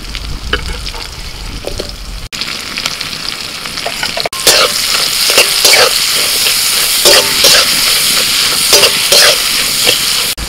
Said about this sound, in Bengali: লবণ দিয়ে দিচ্ছি, পেঁয়াজটা তাড়াতাড়ি করে ভাজা হয়ে যাবে।